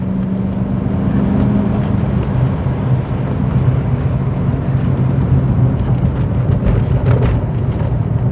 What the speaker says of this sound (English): Who'd have thought that putting a V8 in a car would make it this much better?